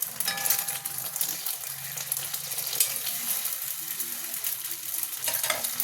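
An egg fries in oil in a hot kadai, producing a steady, close, crackling sizzle that continues evenly throughout with no voices.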